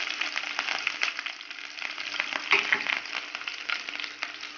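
Chopped garlic, ginger and green chilli crackle and fry in a pan for a Kerala-style prawn curry, a moderate sizzle broken by irregular scraping stirs, with no one talking.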